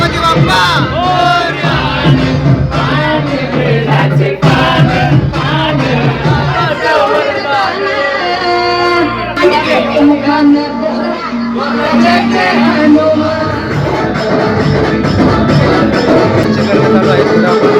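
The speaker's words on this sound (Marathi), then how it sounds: "पूर्ण असा जल्लोष बघा आपला" A Ganpati immersion procession crowd roars and cheers loudly and continuously, with shouting, whoops and chanting voices layered over a dense, busy background throughout.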